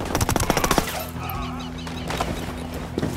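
Automatic gunfire in the video game Tom Clancy's Ghost Recon Wildlands, a rapid close burst of loud shots for under a second, followed by a lingering echo and quieter game ambience, then one more faint shot.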